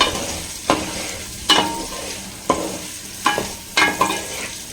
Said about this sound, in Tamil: இது சாட்டேஜ் ஆகட்டும்.